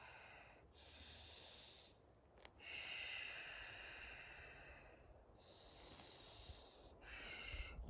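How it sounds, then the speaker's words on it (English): Slow yoga breathing in and out through the nose, long airy inhales and exhales alternating in a calm steady rhythm, close and quiet with no talk. "And 5 breaths. In the nose, out the nose."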